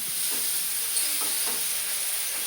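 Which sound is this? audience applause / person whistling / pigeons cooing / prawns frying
prawns frying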